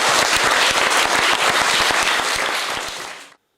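Loud, dense applause from a crowd at a school supply kit distribution event for pupils in the Impfondo district, honouring a donor; many sharp claps overlap steadily before cutting off abruptly near the end.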